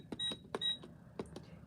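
Cash register keys tapped in a short sequence of quiet clicks, each followed by brief electronic beeps, the presses spaced irregularly and heard alone.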